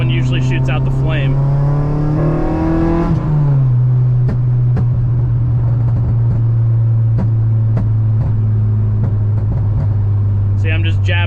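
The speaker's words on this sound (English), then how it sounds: "Or if you want the big pop, you can just let the revs go down, wait, and then tap it." A Honda running a Hondata anti-lag two-step setup drones loudly up close, its revs dropping before a scattered series of sharp exhaust pops and crackles over a steady engine hum.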